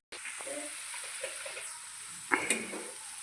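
Potatoes and carrots fry in hot oil, a soft continuous sizzle with light stirring and a couple of brief clinks near the end.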